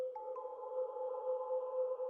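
A cosmic synth setting from a free sound healing plugin, with reverb and slight drive saturation, holds a soft, steady, hovering tone of two pure pitches, quiet and unbroken throughout.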